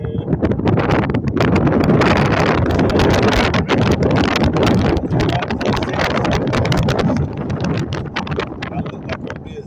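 Loud, steady wind buffets the microphone with a rough, rumbling rush that barely lets up throughout.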